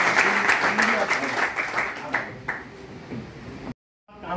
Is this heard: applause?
yes